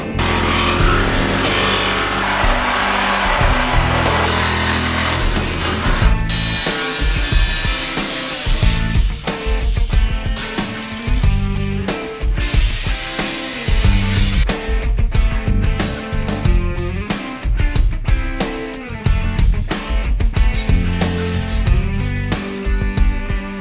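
A power tool trims a metal roof panel during a roof chop on a 1951 Ford, loud and close throughout, with a dense grinding roar at first and then choppy rasping cuts in uneven bursts.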